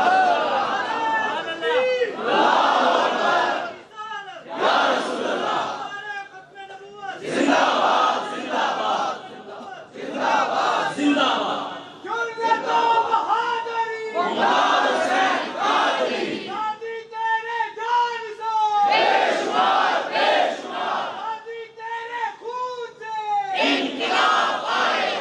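A crowd at a religious sermon gathering chants slogans in loud, rhythmic bursts, with a lead voice calling out and the mass of voices answering in unison again and again.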